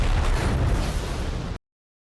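A loud, close explosion from an explosive arrow detonating: a broad rumbling blast that holds for about a second and a half, then cuts off abruptly into silence.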